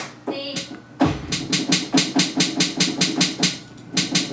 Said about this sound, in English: So then on the second half, I bring in an 808 snare